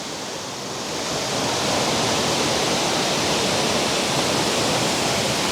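A waterfall in Pugo pours steadily as a loud, broad, continuous rush of falling water that swells up in the first moments and then holds even, with no voices over it.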